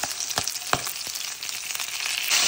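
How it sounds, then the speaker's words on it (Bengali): Potatoes fry in a pan, lightly browning after fish has been fried, with a continuous close sizzle and a few sharper crackles and stirring scrapes. "এখন আমি আলুগুলো ভেজে নিচ্ছি, হালকা ব্রাউন করে ভেজে নিব আলুগুলো"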